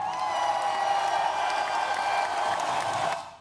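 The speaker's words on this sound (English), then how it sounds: "let me applaud her" Applause and crowd cheering for Kathy Woods, a steady wash of clapping over a sustained tonal hum, fairly loud throughout before cutting off sharply at the end.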